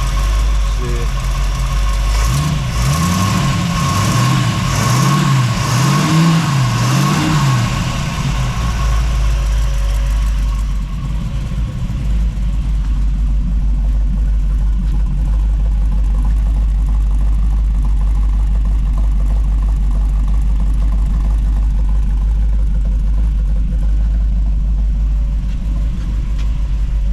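A 1931 Essex Challenger Coupe hot rod idles after a cold start with a steady low rumble and a wavering tone early on, close by, with a voice speaking over it at times.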